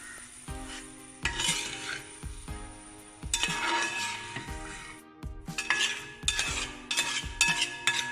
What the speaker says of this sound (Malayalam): ആവശ്യത്തിന് ഉപ്പും ചേർത്ത് നന്നായി ഇളക്കി 5 മിനിറ്റ് മൂടി വെച്ച് വേവിക്കാം